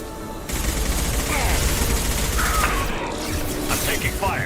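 Sustained gunfire rattles through a firefight in the video game Mass Effect 2, a dense, loud burst of shots with mechanical clatter, the player's voice talking over it.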